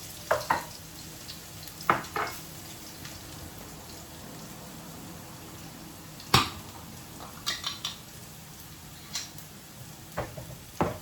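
Garlic and bird's eye chili sauté quietly in a pot for one-pot pasta, giving a soft, steady sizzle broken by occasional sharp clinks and scrapes of a utensil against the pan.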